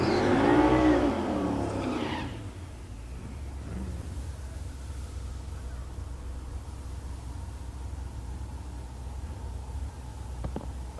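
An El Camino drag racing in the left lane at Tulsa Raceway Park roars loudly as it launches, then fades quickly into the distance, leaving a faint engine drone over steady track ambience.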